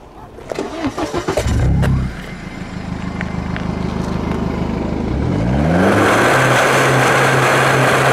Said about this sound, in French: Donc je vais vous faire écouter le bruit du moteur quand on la démarre.